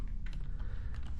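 Close, intimate typing on a computer keyboard, with soft, steady keystroke clicks over a dense low hum in a quiet ASMR setting.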